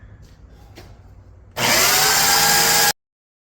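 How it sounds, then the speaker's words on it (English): A belt sander in a knife-making shop switches on abruptly after quiet handling noises, running loud and close with a broadband whine for about a second and a half, then cuts off. "here's my belt sander that I had"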